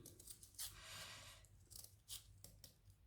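Scissors snip through paper while a snowflake is cut out, with a few quiet, separate cuts and a soft crinkling of paper close by.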